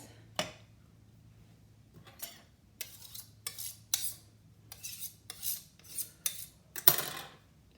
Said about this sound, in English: I'm gonna run my knife one more time